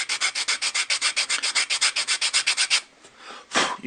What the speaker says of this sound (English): And then it's just a matter of sanding it down.